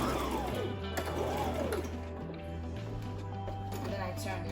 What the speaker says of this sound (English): and then put it in and stitch it.